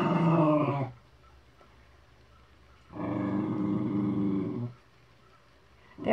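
Dogs growl and snarl while playing with a toy, two loud rough bursts of about a second each separated by quiet gaps, close to the listener.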